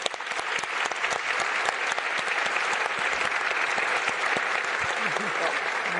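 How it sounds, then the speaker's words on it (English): Audience applause for panelists at a summit session, a loud dense round of clapping that carries on steadily throughout with no break. "a round of applause for our panelists"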